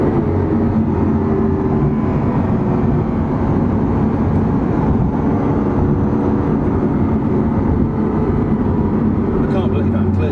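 A loud, continuous engine roar from a Lamborghini Aventador SV, steady and close throughout, with a speaking voice over it.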